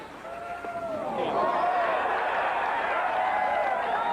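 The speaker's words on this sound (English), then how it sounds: "Noise you hear. Crowd here at 18 has just seen that Nicklaus has birdied the last hole on the scoreboard." Golf gallery at the 18th green of the 1982 US Open at Pebble Beach, a swelling murmur and cheer rising after Jack Nicklaus's birdie, with a voice talking over the crowd throughout.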